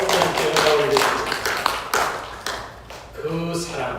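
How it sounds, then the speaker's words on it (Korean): Church congregation clapping during a Sunday worship service, a burst of scattered hand claps that thins out and fades, with voices heard under and after it. "우리 박수로 하나님께 영광을 드리겠습니다"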